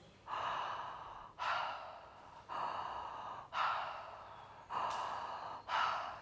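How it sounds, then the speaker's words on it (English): Conscious connected breathing with no pauses: six long, soft, airy breath cycles in a steady circular rhythm, close and quiet, with no speech. "what I want you to do is consciously connect the inhale and exhale"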